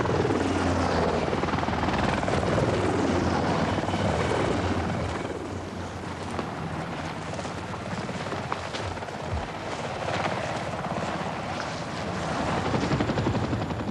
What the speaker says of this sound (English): overhead hover the observation helicopters, alert to spot enemy reaction